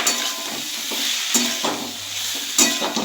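A cut tomato goes into spiced potatoes frying in a pan, giving a steady close sizzle with repeated scraping stirs and light clinks of the utensil against the pan.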